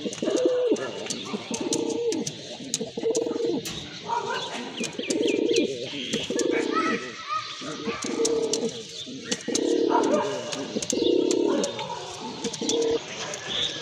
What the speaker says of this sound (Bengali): এই যে দেখেন কবুতর জোড়াটা খুবই সুন্দর